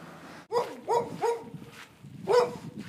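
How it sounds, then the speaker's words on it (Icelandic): A boxer dog barks four times from a short distance outdoors near a beach, with three quick barks, a pause, then one more, each sharp and loud. "Brjálaður boxer sem geltir alltaf á mig þegar ég labba hérna."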